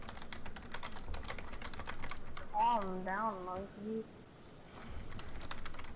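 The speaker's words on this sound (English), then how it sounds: "My keyboard's loud, so it makes that sound." Loud computer keyboard keys clatter in rapid, dense bursts through the whole stretch during a Fortnite duos match, with a brief sung or drawn-out voice rising over the clicking partway through.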